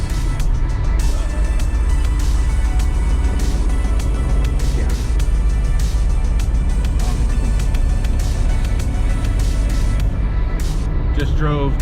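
A 1990 Honda CRX base model with 63,000 original miles drives along, its steady engine drone and road rumble heard from inside the cabin throughout, with a person talking over it.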